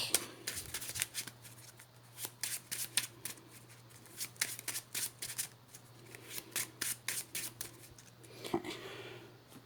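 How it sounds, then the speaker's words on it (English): Close, crisp card shuffling: repeated riffling bursts and rubbing slides of a deck, with a faint steady hum underneath and no talking. "and then I will shuffle my deck."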